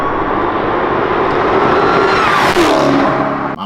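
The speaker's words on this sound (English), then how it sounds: "So this loud, my Hellcat, I guess at full throttle when I'm on the highway" Loud stock-exhaust Dodge Challenger Hellcat in track mode at full throttle on a highway, a sustained heavy engine roar that climbs in pitch and then drops away as the revs fall, no talk.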